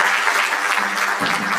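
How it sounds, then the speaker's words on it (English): At a mental wellness and counselling conference, an audience breaks into dense, loud applause that sustains evenly for a brief stretch. "Round of applause for"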